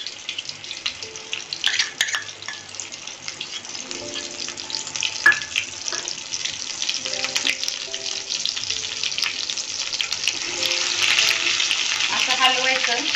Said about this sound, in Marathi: आता त्याच्यामध्ये आपण कांद्याची पेस्ट केली ना ते टाकून घेऊया